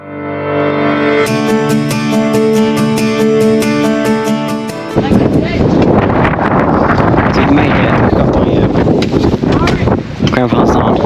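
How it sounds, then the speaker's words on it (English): Strong wind sweeps across an Icelandic glacier, loud rough buffeting and gusts rushing into the microphone after about five seconds of steady tonal music. "It's very windy."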